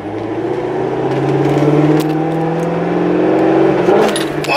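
A race car engine revs in first gear, close and loud, its pitch climbing steadily in a single rising pull with some mechanical rattle on top.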